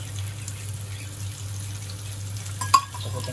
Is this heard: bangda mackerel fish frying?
yes